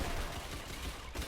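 Artillery strike in the trench warfare game Entrenched, a rapid run of muffled, low booming blasts and gunfire thuds layered into a rough, continuous barrage, fairly quiet.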